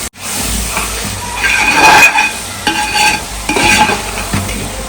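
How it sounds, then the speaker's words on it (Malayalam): Onions, tomatoes and green masala are stirred in a pan for a baby camel biryani, giving steady scraping and sizzling with louder bursts of stirring through the middle, close and alone with no talk. "ഇതെല്ലാം കൂടിയാണ് ഇളക്കലോട് ഇളക്കല് നമ്മൾ നേരത്തെ ഇട്ട സവാളയും തക്കാളിയും പച്ചമസാലയൊക്കെ"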